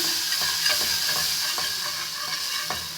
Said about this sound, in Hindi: तकरीबन 1 गिलास दूध का, लेकिन पहले थोड़ा सा शामिल करेंगे। इसको अच्छी तरह मिक्स करेंगे।